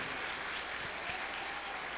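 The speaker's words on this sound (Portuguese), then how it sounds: "Aplauda mais uma vez o Senhor," A church congregation applauds, a steady patter of many hands clapping together at moderate distance, fairly soft and even throughout with no voices over it.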